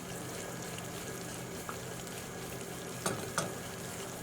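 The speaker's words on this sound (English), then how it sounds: "all we're going to do is keep on stirring this for around 4 to 5 minutes, possibly 6 minutes" A bubbling sugar mixture for Persian sohan simmers steadily in a pot while being stirred, a soft continuous sizzle with a few sharper scraping knocks of the spoon near the end.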